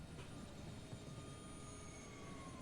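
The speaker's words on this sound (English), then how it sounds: "Why is a helicopter landing here?" An anime helicopter coming in to land gives a faint, steady engine and rotor roar with a high turbine whine, continuous and distant-sounding throughout.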